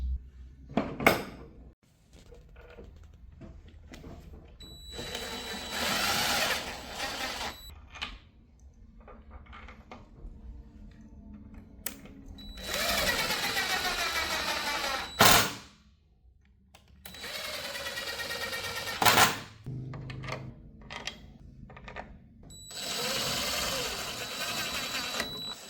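A power drill driving wood screws into the runners of a sewing table, with several loud whirring bursts separated by quieter clatter, handling noises and some talk.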